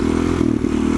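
A Husqvarna SM610 supermoto single-cylinder engine idles and putters in first gear during slow wheelie practice, a close, loud, even thumping drone with a brief dip in the middle.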